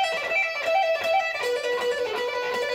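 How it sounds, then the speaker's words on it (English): Fast descending pentatonic lick on guitar, a dense flurry of rapid notes tumbling downward in quick even runs, played alone at moderate volume for a few seconds. "back today with a super fast descending pentatonic lick."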